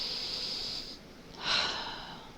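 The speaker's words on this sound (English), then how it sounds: "All I could hear was the labored breathing coming from my nose." Labored breathing through the nose in the horror video game Iwaihime: a steady hissing exhale that fades, then a sharper, louder nasal breath about halfway through, close and alone with no talk.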